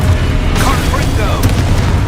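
A Confringo fire spell bursts with a booming blast amid chaotic Hogwarts Legacy combat, its rumbling impact thick with other spell effects and battle noise.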